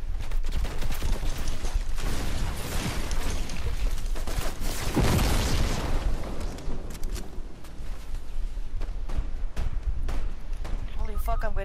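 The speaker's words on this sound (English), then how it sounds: "I'm getting shot at, Mel." Gunfire in Fortnite, dense bursts of shots and rattling fire peppering a busy battle soundscape at steady loudness, with people talking over the game throughout.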